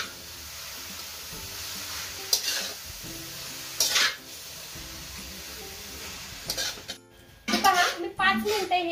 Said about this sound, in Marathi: तुपामध्ये मी गाजर घालून घेतलेला आहे आता आपल्याला हे मीडियम टू हाई फ्लेम वरती 15 मिनिटं चांगले परतून घ्यायचे आहे